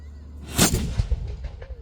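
A historic cannon at Fort George fires a 3-pound ball, a single sharp boom followed by a short rumbling tail, heard at moderate distance in the open air.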